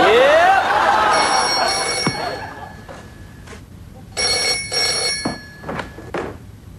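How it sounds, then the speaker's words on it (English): An old telephone bell rings in two loud, close bursts with a brief pause between them, its metallic trill sounding alone. "That'll be the phone. Phone's never rung before."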